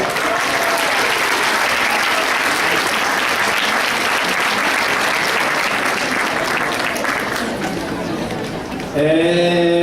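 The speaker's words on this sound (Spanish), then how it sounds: "Otro aplauso para ella, por favor." An audience at a keynote conference session breaks into loud, sustained applause that fills nearly ten seconds, easing slightly before a brief burst of voices at the end.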